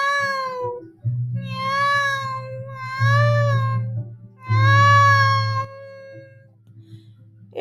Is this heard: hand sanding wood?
no